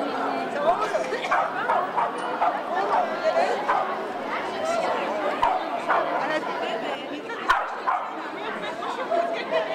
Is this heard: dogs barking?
yes